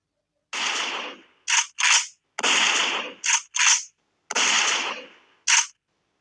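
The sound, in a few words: gunshot sound effect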